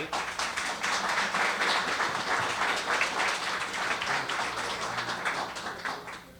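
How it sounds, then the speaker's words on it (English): A room of guests at a networking breakfast claps steadily, a dense patter of many hands that holds for several seconds and then tapers off near the end. "a big round of applause and a thank you to John Rubo and Yonkers Brewery"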